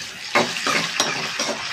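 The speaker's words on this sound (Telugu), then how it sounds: "ఇవి కొంచెం ఫ్రై అయిన తర్వాత కొన్ని కరివేపాకు రెబ్బలు వేసుకోవాలి. ఇవి కూడా కొంచెం ఫ్రై చేసుకోవాలి." Curry leaves and dried red chillies frying in oil for lemon pulihora, a close sizzle broken by a few sharp stirring scrapes at regular intervals, no voices.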